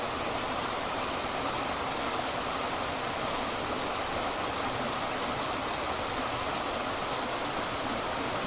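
Stream water rushes steadily down Padley Gorge in the Peak District. The broad, even roar stays constant and fairly loud throughout, with no voices.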